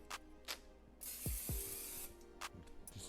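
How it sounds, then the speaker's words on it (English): Cooking spray hisses into a pan in a steady burst of about a second, close and fairly quiet, with soft knocks and handling sounds before and after. "this is much more easier for me to use the cooking spray."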